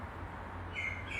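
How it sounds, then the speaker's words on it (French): A bird calls near a house: a few short, high chirps stand out over a steady background hum, close by and moderately clear. "je l'ai fait partir l'oiseau parce qu'il faisait du bruit"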